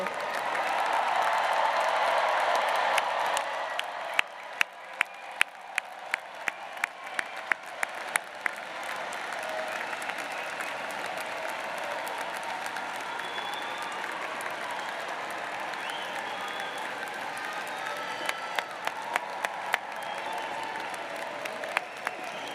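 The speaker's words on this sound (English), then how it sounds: "give a round of applause in appreciation to everyone here who supported you" University commencement crowd applauding in a large hall, a loud sustained roar of clapping that gradually thins to scattered individual claps and murmuring by the end.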